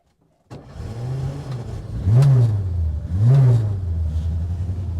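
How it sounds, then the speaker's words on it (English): A Fiat 600's small engine cranks with the starter, catches and settles into a steady nearby rumble, with two brief rising revs partway through. "Now, to get it started, essentially you turn the key here"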